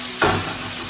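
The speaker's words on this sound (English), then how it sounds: "So we'll just saute this for a couple of seconds" Pad Thai ingredients hit a hot pan with a sudden loud sizzle that quickly settles into a steady frying hiss, heard briefly and up close.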